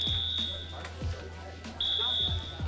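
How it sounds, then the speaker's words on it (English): A school fire alarm in a movie scene sounds as a steady high-pitched electronic tone in two long stretches, loud and continuous, while low thumping and other scene sounds carry on underneath. "I'm so glad somebody finally decided to pull that fire alarm."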